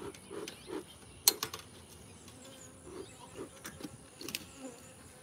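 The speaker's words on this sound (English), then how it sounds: "It's full of bees." Bees buzz densely around a large, full hive during a honey harvest, a close, steady drone with scattered sharp clicks and brief louder passes.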